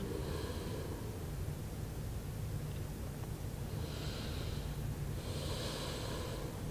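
Slow, steady breathing by a yoga practitioner during a beginner session, with soft airy inhales and two fuller exhales near the end over a constant low room hum.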